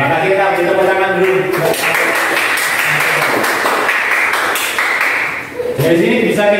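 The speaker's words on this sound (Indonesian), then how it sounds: "kita beri tepuk tangan dulu" Classroom audience applause during a teacher-training practice lesson: a steady wash of clapping swells for several seconds, then fades as talking resumes, with voices audible at the start and end.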